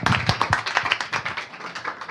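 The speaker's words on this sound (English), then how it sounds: "let's do a round of applause for our" Conference audience applauding at a session on investing in resilient coastal communities, a short burst of dense, close clapping that thins out over two seconds, with no talk over it.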